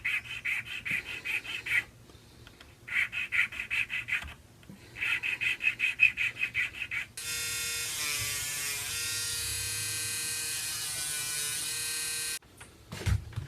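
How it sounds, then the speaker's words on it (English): Small flat file rubbing back and forth across wooden bollard timbers for a ship model, a series of short rasping strokes in bursts, then a steady whining buzz from a small Proxxon power sander. "And I use this little flat file."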